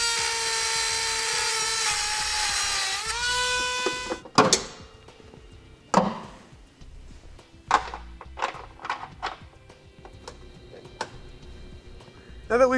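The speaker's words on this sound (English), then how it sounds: "I'm going to use a just kind of like a rotary cutoff wheel." A rotary cutoff wheel enlarges a hole in the frame of a 2015 Subaru Outback, starting with a high whine that winds down, followed by a series of sharp metallic knocks and clanks.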